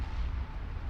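Ship weapons open fire in the space game Eve Online, giving a heavy, continuous low rumbling boom that lasts the whole moment without pause.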